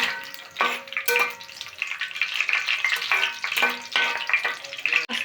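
Mustard oil frying in a pan on a home stove, a steady close sizzle with crackling and spitting, with a few faint clinks along the way.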